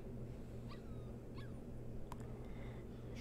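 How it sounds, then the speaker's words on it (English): Short dog whimpers and a yip from a puppy in the video game Life is Strange 2, a few brief high calls spread over a steady low game background hum. "Ready for today's training, puppy?"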